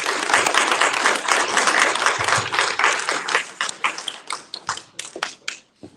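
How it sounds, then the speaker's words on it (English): Audience applause rings out as a speaker comes to the stage for a morning talk, a dense, loud wash of many hands clapping that thins into scattered individual claps before fading to near silence. "please give him a round of applause as he comes to the stage"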